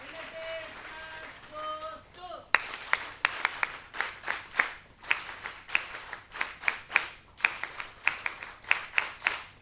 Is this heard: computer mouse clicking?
no